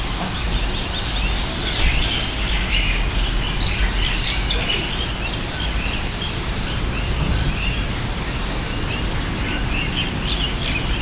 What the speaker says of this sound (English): This little tiny bird, no bigger than my feet.